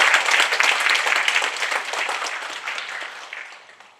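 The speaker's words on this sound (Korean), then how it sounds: "여러분 다시 한번 큰 박수 주십시오." Attendees at a public citizens' briefing about a lead smelting plant break into warm applause, a bright, crisp patter of many hands that gradually softens and dies away over about four seconds.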